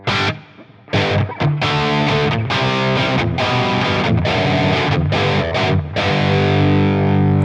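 Electric guitar through Tube Screamer overdrive on a Line 6 Helix plays crunchy, distorted chords in short bursts with brief gaps, loud and close.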